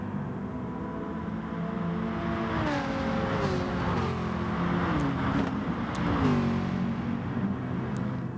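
Race cars starting at Monza in a racing video game: a pack of engines revving and accelerating together, with rising and falling pitch sweeps of multiple cars, steady and fairly loud with no talk.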